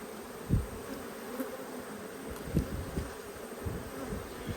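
Honey bees buzz steadily around a nucleus hive outdoors, a dense continuous hum close by, with occasional soft thumps and knocks rising above the drone.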